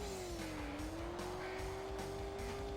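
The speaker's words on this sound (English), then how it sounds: "I can hear the engine behind me." A rival racer's car engine from the N64 game World Driver Championship drones steadily behind the player, its pitch rising and falling slightly over a constant game mix.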